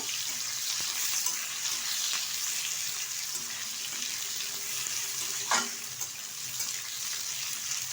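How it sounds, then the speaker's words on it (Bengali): Chopped onions frying in a pan, a steady moderate sizzle with a sharp utensil clink partway through, close by and free of speech. "এখন দিয়ে দিচ্ছি এখানে কুচিয়ে রাখা পেঁয়াজ। পেঁয়াজটা ভেজে নেব।"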